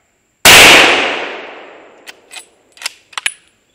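A single loud 9 mm Sig Sauer pistol shot at an outdoor rifle range, with a sharp crack and a long decaying echo, followed by a few faint distant shots.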